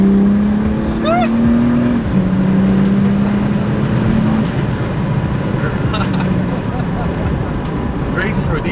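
A tuned 585 bhp BMW 535d diesel saloon drives loudly, its engine droning steadily with a gear change near two seconds, while people talk inside the car over the constant road roar.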